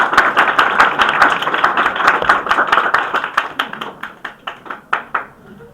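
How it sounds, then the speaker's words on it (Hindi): A school Republic Day function audience applauds to welcome a guest, dense clapping that thins into a few separate, spaced claps before dying away. "जब हम उनको बुलाएं तो आप लोग तालियों से उनका स्वागत करेंगे"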